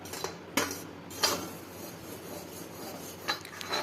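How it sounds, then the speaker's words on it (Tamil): Gram flour roasting in a kadai for a Thirupagam sweet, with a metal spoon scraping and clinking against the pan in soft, irregular strokes and occasional louder taps, close by with no talking. "கடலை மாவு எடுத்து வச்சுருக்கோம், அதை போட்டு ஒரு 5 நிமிஷம் வறுத்துக்கலாம்"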